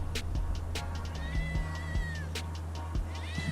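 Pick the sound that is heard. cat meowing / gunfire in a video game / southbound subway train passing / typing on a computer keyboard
cat meowing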